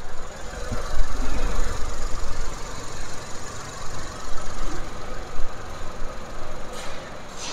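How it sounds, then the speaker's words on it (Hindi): A Tata car engine idles close by with a steady, slightly knocking rumble and mild vibration, continuous throughout. "काफ़ी कम वाइब्रेशन और काफ़ी कम आवाज़ जो है अब टाटा के इंजन से आने लगी है"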